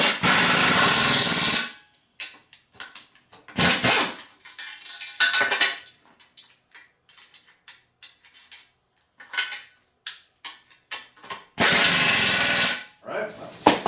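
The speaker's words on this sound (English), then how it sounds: "I'm using an impact gun for these, but you don't have to." An impact gun drives bolts while a sleeve hitch is fitted to a lawn tractor. Several loud, close rattling bursts of one to two seconds each are separated by quieter clinks and handling of metal parts.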